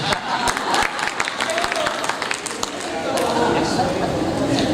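A conference audience claps, with scattered individual claps early that build into fuller applause, a voice speaking over it at first.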